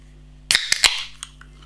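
A can of Tanker Hallucination Imperial Lager is cracked open close by: a sharp metallic snap followed by a few quick clicks and a short hiss over a low steady hum.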